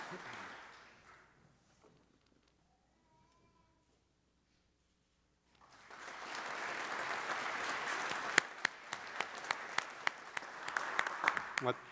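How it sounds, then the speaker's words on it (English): Applause for Master of Science recipients at a Dartmouth graduate investiture ceremony, with a quiet stretch before a large crowd claps steadily from midway, sharp individual claps standing out toward the end. "let's have a round of applause for all of our Masters in Science recipients"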